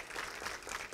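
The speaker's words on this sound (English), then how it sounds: "Give them a round of applause, please." A church congregation applauds its workers, with dense, steady clapping filling the whole brief moment at a moderate level.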